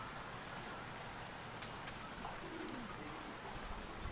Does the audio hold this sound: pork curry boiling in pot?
no